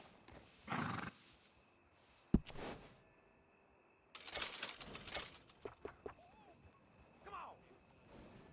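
A horse whinnies and snorts in the Red Dead Redemption 2 video game, with bursts of stable noise and shuffling hooves around it. No one talks.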